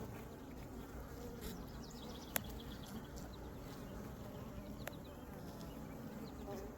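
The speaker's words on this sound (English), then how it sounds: "Nurse bees are doing their jobs." Honey bees hum and buzz steadily in an open hive full of brood during an inspection, a dense, quiet drone with a couple of sharp clicks.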